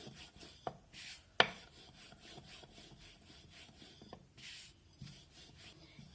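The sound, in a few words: rolling maida dough thin like chapati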